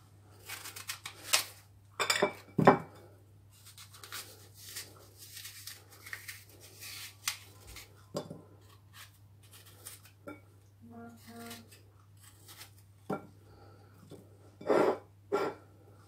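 A knife slices through a homemade cake into medium slices, giving soft, intermittent cuts and light clinks against a plate, close and fairly quiet with pauses between strokes.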